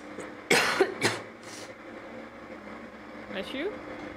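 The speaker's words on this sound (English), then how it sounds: "it was a cough" A few sharp coughs from a person during an online game session, close and short, followed by a quieter throat noise and faint room hum.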